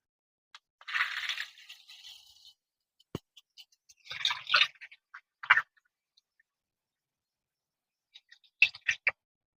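A USB rechargeable milk frother whisks water at rising speed, giving sporadic close splashing, spattering and dripping bursts separated by near silence.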